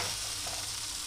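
A gram-flour pancake (dhirda) sizzles in a pan, a steady close hiss of frying with no breaks over about a second.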